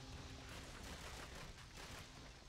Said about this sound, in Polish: Jeszcze strzał.